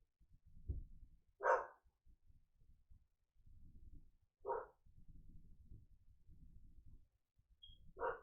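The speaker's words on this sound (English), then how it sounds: "Sorry if you can hear my dogs." Dogs bark from another room, three short separate barks spaced a few seconds apart, faint and distant against a quiet indoor background with low muffled sounds between them.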